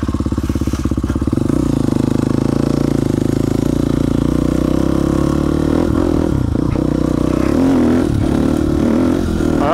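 A KTM dirt bike rides over rocky bedrock terrain, its engine loud and close with a steady throaty drone, occasional revs and clattering over bumps.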